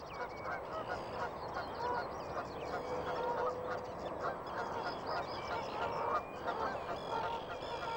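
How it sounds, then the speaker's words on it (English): A chorus of geese honking and other water birds calling at daybreak in a park in Milton Keynes, over steady outdoor ambience, many overlapping calls throughout, fairly near. "a rich variety of water birds add their own calls to the beginning of the day"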